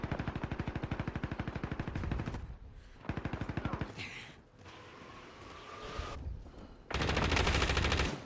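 Rapid automatic gunfire in a shooting video game, loud close bursts in repeated volleys broken by short gaps, with quieter shots and game sounds in between.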